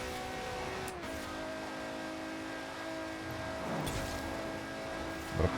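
A turbocharged V12 Mercedes engine in Forza Horizon 4 drones steadily at high revs, dropping briefly as a gear shifts, then rising again; continuous and fairly loud, with no talking.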